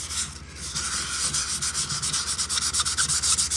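Light hand sanding of primer on a 1964 Ford Galaxie car body, a steady close rasping scrub with regular back-and-forth strokes that grow more rhythmic toward the end, with no talk.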